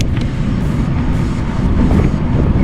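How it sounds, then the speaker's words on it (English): Gusty wind roars across the microphone while a Surly Bridge Club bicycle is ridden outdoors, gusts near 20 mph, a steady low rumbling buffet throughout with no talk. "Got a little bit of wind."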